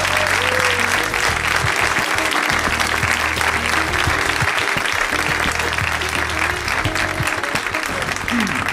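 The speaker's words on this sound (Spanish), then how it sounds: "y pido también un caloroso aplauso" Studio audience gives a loud, sustained burst of applause for guest Juan Carlos Ortega on a Spanish comedy programme, dense clapping holding steady throughout.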